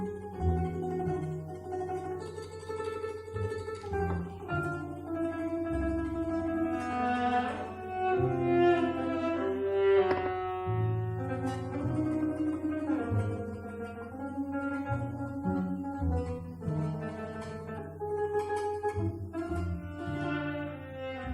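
Theorbo plucked with a Gibson Heavy plectrum, sustained low bass strings ringing under a melodic line of plucked notes in a steady flowing performance, close and full without any talking.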